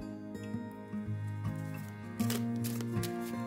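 A deck of cards is shuffled and cut close by, giving soft riffling patter and brisk flicks that grow a little louder partway through, over a faint steady musical hum.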